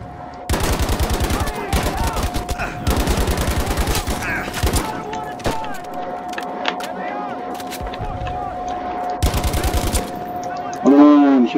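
Loud bursts of automatic rifle fire in the Battlefield V war campaign 'The Last Tiger', with several rattling volleys separated by short pauses, while someone talks in between and over a steady low hum.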